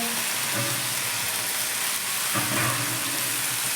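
Garlic and cumin sizzle and fry steadily in a hot pan while a beetroot dish is cooked, a continuous close crackle with a brief stir around the middle and no talking.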